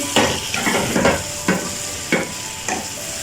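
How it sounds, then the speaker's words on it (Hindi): Capsicum being stirred into potatoes frying in a pan, with a steady sizzle under five or six regular spatula scrapes, close and fairly loud, with no talking. "तो ये हम इसमें ऐड कर दी है, अच्छे से मिक्स कर लेंगे।"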